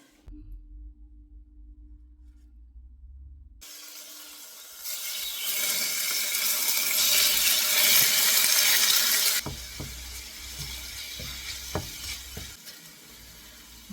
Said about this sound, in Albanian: Tani ta mbushim me ujë